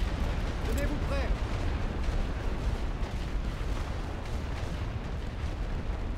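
Artillery fire in a World War I strategy battle game, heavy booms and rumbling explosions rolling in a near-continuous barrage, with voices talking over the shelling.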